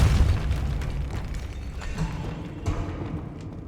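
A Depulso spell blast in Hogwarts Legacy, set in a crypt with an altar and sarcophagus, opens with a loud booming burst that decays into a rumbling tail, with smaller thuds later.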